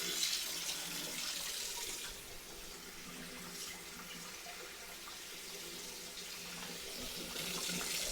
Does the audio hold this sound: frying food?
no